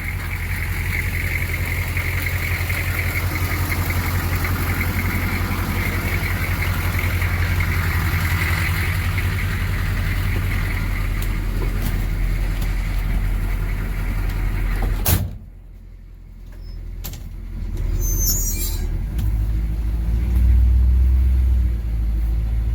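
An M1028A2 CUCV military truck idles with a steady, close engine rumble for about fifteen seconds. A sharp thump follows, the sound drops quieter, then the engine note builds again as the truck sets off.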